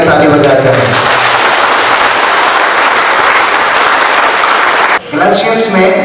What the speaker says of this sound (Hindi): इस बार जोर से परमेश्वर की स्तुति करेंगे ताली बजाकर।